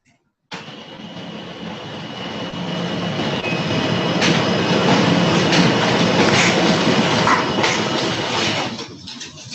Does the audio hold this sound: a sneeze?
no